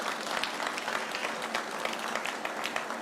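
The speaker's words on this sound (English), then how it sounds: "It's only the sales teams that is clapping." Steady clapping from a sales team at a luxury property launch in Gurgaon, a dense, continuous patter of many hands filling a hall for three seconds with no voices.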